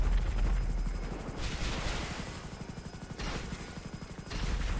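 Hunter military helicopter in GTA 5 Online firing its gun, a steady rapid rattle of shots over the whirring rotor drone, with brief pauses between two bursts, fairly loud and with no talk.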